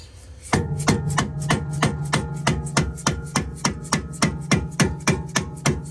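A small hammer taps BMW E46 M3 brake parts during a Brembo brake install in a steady series of about fourteen sharp, ringing knocks, evenly spaced and close by.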